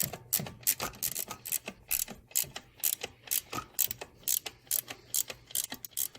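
A ratchet wrench clicks rapidly in irregular bursts while tightening alternator mounting bolts on a Chevrolet 3400 engine in an Impala, with crisp close metallic ticks and brief pauses.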